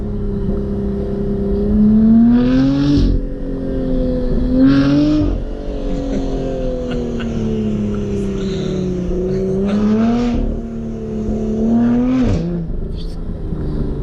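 Supercar in a rally of sixty supercars accelerating repeatedly, engine note sweeping up through several gear-change surges with brief shift gaps, heard loud from inside or close by under background chatter.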